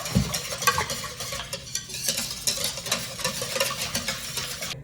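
Whisk stirring a spiced milk dressing thickened with xanthan gum in a bowl, giving a continuous brisk rhythmic swishing and tapping close up.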